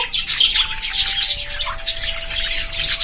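Turquoisine parakeets in an aviary chirp and twitter continuously in a dense, bright chorus, close and fairly loud, with a faint steady tone beneath and no talking.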